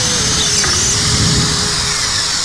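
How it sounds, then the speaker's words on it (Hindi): Angle grinder cutting into a tiled wall to make a hole for a switch board, a harsh continuous whining buzz over a low drone, loud and close. "ग्राइंडर से कटिंग करने वाले।"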